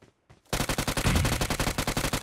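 Rapid automatic gunfire in the mobile battle royale game PUBG Mobile, a loud sustained burst of closely spaced shots following a couple of faint sounds, with no talking.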